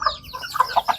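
Farm chickens cluck in short, separate bursts during a morning feeding with rice grains, a handful of close, moderately loud calls spaced unevenly with no voices.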